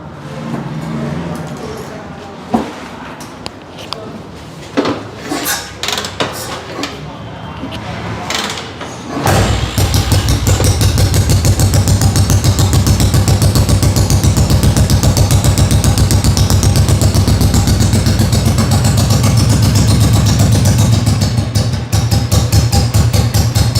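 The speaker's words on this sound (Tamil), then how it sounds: "ஸோ இன்ஜின் உங்களுக்கு ஸ்டார்ட் பண்ணி காமிக்கணுமா?" A vintage motorcycle engine at a classic bike restoration workshop cranks over, catches and settles into a steady, loud idle that runs on without a break, after some brief clanks and handling noises at the start.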